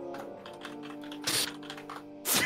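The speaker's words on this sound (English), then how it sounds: "I hear how steady you're getting typing." Keys clatter on a computer keyboard in quick, uneven bursts of close tapping over a low steady tonal hum, with two louder sharp noises breaking through.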